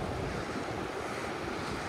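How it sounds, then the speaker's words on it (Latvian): Rushing water of a rapid, turbulent river in the Alps, a steady broadband roar that fills the scene without pause, close and loud, with no voices. "šī upe, kur mēs plānojam peldēties, bet oj, viņa ir krāčaina."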